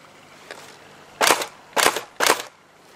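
Tokyo Marui AA12 airsoft gun fed from a drum magazine: a faint click, then three sharp, close pops spaced about half a second apart over quiet background.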